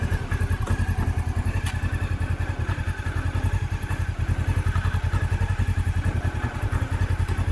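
Honda CB500S motorcycle engine idling at low revs, a steady close rhythmic thumping putter with a mechanical clatter, heard alone without speech.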